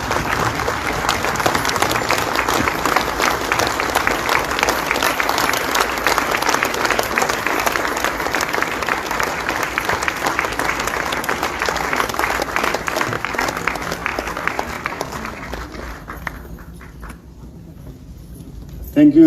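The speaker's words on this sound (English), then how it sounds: "the release deserves a standing ovation" A book launch audience gives a long standing ovation, dense applause rolling steadily for many seconds before thinning and tapering off near the end, with a brief sound at the very close.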